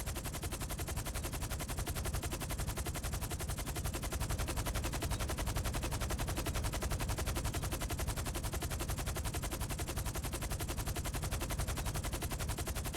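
DH-7 Iron Mule helicopter in GTA Online, a very loud, dense, rapid rotor chop that hammers on steadily and evenly without a break, close and overwhelming.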